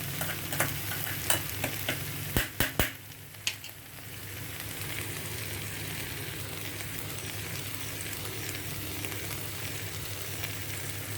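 Masala stirred in a frying pan for kadhai paneer: a few sharp spoon clinks and scrapes early on, then a steady, even sizzle of frying spices continuing alone without speech.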